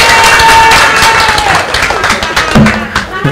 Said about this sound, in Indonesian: Tepuk tangan aja dah